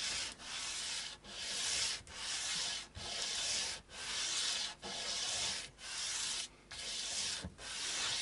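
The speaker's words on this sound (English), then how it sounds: "I'm just working the overall thickness of this nut base down a little bit so that it fits in the slot" A guitar nut base for an Epiphone Les Paul Traditional Pro III is sanded down by hand to fit its slot, ten or so regular back-and-forth rasping strokes, close and quiet with brief pauses between them.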